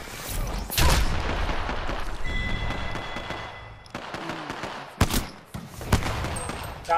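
Pistol gunfire in Apex Legends: several sharp, loud shots come in irregular bursts over a busy game backdrop, with no talking.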